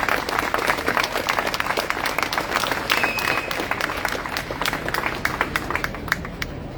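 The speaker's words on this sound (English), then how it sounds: "A big round of applause for both of them" Crowd applause at an outdoor Free Palestine rally in Melbourne, a sustained dense wash of many hands clapping with scattered cheers, steady and fairly loud throughout.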